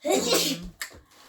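A single sharp sneeze bursts out, followed by a brief quieter exhale, with a voice speaking just before it.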